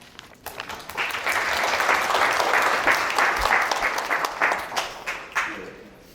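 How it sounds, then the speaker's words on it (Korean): Audience applause welcoming a guest speaker, a marketing and retail expert, at a Korean business lecture on the domestic market outlook, swelling into steady, dense clapping from a seated crowd and tapering off near the end. "뜨거운 박수로 맞아주시기 바랍니다."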